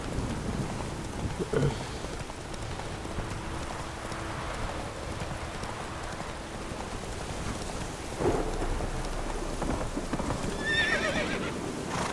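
Roach, a horse in The Witcher 3 video game, neighs and whinnies amid a thunderstorm, with steady rain and rolling thunder. Clip-clopping hooves sound throughout, and a loud burst comes near the end.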